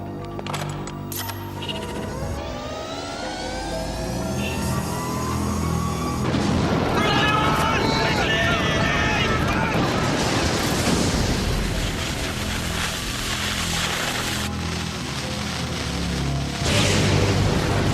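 A loud explosion in the Highlander animated cartoon, French dub, booms in after a few seconds of tonal music, followed by a long, dense roar of rumbling and crashing debris that stays loud to the end.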